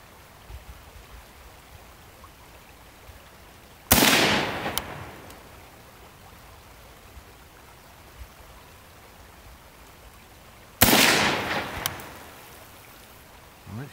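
Two sharp Ruger M-14 rifle shots firing 5.56 NATO rounds at about 10 yards, spaced several seconds apart, each a loud crack with a brief decaying tail over quiet outdoor background.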